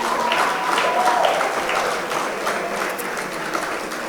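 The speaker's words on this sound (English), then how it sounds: "let's give him a round of applause." An audience applauds a golf coach at a gathering, a sustained, moderately loud wash of clapping with faint voices mixed in early on, holding steady for about four seconds.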